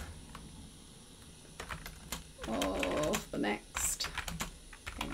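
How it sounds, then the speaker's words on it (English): Typing on a computer keyboard during a live computing lesson: quick, irregular clusters of key clicks, close and fairly loud, with a voice briefly speaking over them. "we're actually doing this live, you can hear me typing"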